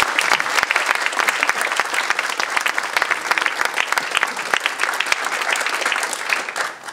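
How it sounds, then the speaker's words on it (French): Conference audience applauding at the close of a talk, a dense, sustained burst of many hands clapping that fills the room and fades slightly toward the end. "je vous propose d'applaudir"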